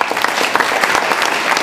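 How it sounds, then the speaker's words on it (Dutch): A short burst of dense audience applause from the crowd at a regional meeting on small schools, steady clapping close and loud throughout without voices. "Geef hem een applaus."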